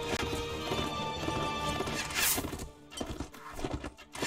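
Horses in the Mount & Blade: Warband video game gallop with dense, continuous hoofbeats and whinny amid a loud, busy battle din, with a crash near the middle.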